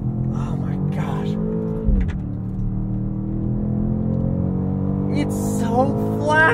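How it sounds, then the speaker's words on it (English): A 2024 BMW X5 M Competition being driven, its steady engine hum and road rumble heard from inside the cabin, with a brief louder thump around the middle. "Hey crew, I've got the key to that 24 BMW X5 M Competition. We are going to take it for a drive"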